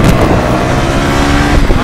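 A scooter engine revs loudly and steadily while someone rides it through traffic, the motor droning close and continuous with small surges toward the end.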